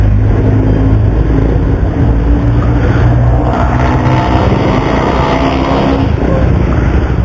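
Suzuki Raider R150 motorcycle with a faulty stator, engine running loud and steady up close during a test, a continuous rough low drone with slight rises in pitch and no talk over it.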